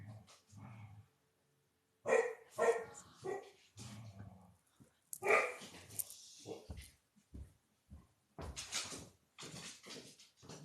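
A dog barks in a series of short, sharp bursts separated by quiet gaps, close and fairly loud in an indoor room, with a few softer whimpery yips mixed in.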